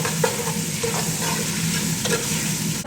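Pounded ginger, garlic and green chillies frying in a pan with oil, giving a steady close sizzle with a few clinks of stirring, no voices.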